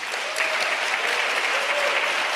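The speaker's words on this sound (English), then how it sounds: "let's give them a round of applause" Steady, fairly loud applause from an audience at a climate justice summit, sustained evenly throughout as a dense, continuous patter of many hands.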